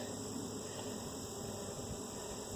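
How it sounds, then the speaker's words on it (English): Young honeybees crowd a hive frame during an inspection, giving off a steady, close, unbroken buzzing drone with no talk. "A lot of young bees on this frame."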